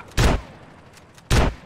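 Gunfire in the video game GTA San Andreas Remastered, two sharp loud shots about a second apart, close, with faint game ambience between.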